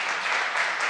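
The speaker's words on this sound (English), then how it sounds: "I think they want to applaud for you." Audience at a city council meeting clapping, a brief dense burst of applause, steady and fairly loud from start to finish.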